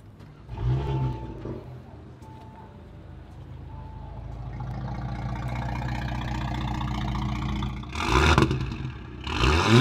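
Audi S4 B9 fitted with a QuickSilver Sound Architect exhaust and an optional downpipe, its engine idling and then rising through sustained revs to loud blips near the end, heard up close and on its own.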